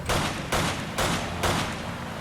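Four bursts of Resident Evil 5 gunfire, evenly spaced about half a second apart, each a sharp blast with a short rumbling tail.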